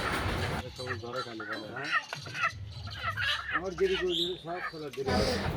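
Chickens and ducks at a village poultry market cluck and call at close range, mixed with people talking throughout the busy trading.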